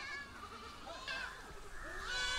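Young goat kids bleat on a crowded goat farm in Kerala, several thin wavering cries overlapping close by against steady farmyard noise.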